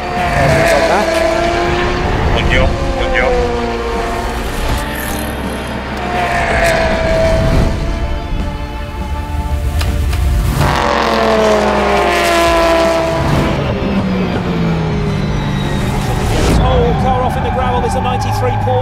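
Race cars at Le Mans, including a Porsche, roar past close by, with engines rising and falling through repeated pitch sweeps over a constant loud drone, and a voice speaks briefly.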